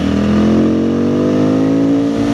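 A Benda 707 motorcycle, a 218 kg machine, accelerates hard with a loud, steady engine roar whose pitch climbs smoothly for a couple of seconds, close up and with no talking.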